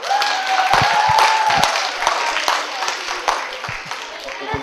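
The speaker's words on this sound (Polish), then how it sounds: "Mocne, brawa!" Scattered applause from an audience at a school environmental presentation in Kielce, with separate claps popping out sparsely beneath a dominant voice talking through the clip.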